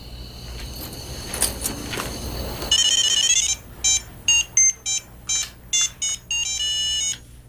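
A telephone ringtone chirps in a series of short, bright electronic bursts with gaps between them, loud and close, after a stretch of quiet room tone.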